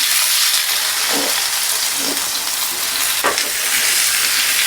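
Onions dropped into hot oil in a pan give a loud, constant hissing sizzle, with a few low stirring thumps breaking through close up and no voices.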